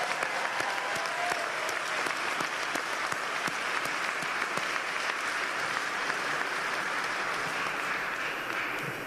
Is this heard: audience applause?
yes